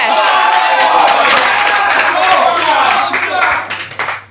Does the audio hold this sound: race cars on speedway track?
no